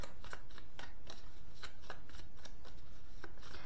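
Tarot cards being shuffled and drawn, a quick run of crisp riffling snaps repeating at a steady rhythm, close and fairly quiet, with no talking.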